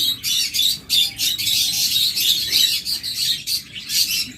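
A pair of opaline pet birds chirps close by in quick, bright bursts, one call after another with hardly a pause.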